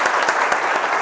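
An audience at a Java project competition claps for a team, a brisk, even patter of many hands with fairly regular beats, close and loud with no voices over it.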